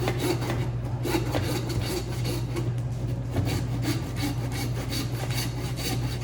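A meat joint being cut gives a close, continuous rasping, tearing texture with steady rhythmic strokes, and no one speaks over it.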